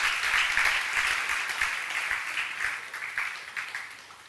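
Steady applause from a workshop audience in Kumasi, a continuous wash of clapping at moderate loudness with no speech over it.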